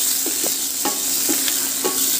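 Garlic sizzling in a hot pan for a horse gram dal, with a spatula scraping and stirring in short repeated strokes over a steady bright frying hiss, close and fairly loud.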